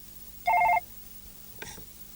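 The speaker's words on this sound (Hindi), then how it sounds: "सर, आपके लिए फोन है।" A telephone bell rings once in a short electronic burst, then a fainter second ring follows, over a quiet room hum in a Hindi horror drama scene.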